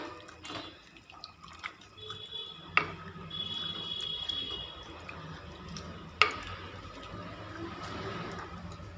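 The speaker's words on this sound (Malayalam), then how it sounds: "കടല ഈ വെള്ളത്തോടെ തന്നെ നമ്മൾ ഇതിലേക്ക് ചേർത്ത് കൊടുക്കുന്നുണ്ട് എല്ലാം കൂടെ ഒന്ന് മിക്സ് ചെയ്യാം" A spoon stirs cooked chickpeas with their water into a Kerala sadya koottu curry, giving soft wet sloshing and scraping with two sharp clinks of metal against the pot, fairly quiet throughout.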